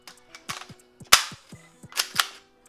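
A Beretta BB pistol fires several sharp, loud cracks in an irregular sequence, close up, with clicking handling noises between shots and no talk.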